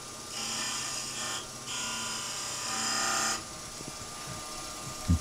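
Spindle gouge cutting a wooden finial on a lathe, a steady close whirring rasp that holds for several seconds with brief dips, then stops, leaving faint knocks and a final bump.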